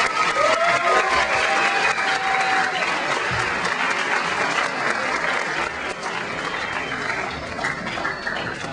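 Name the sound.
audience applause for Mr. Miller and the Spotlighters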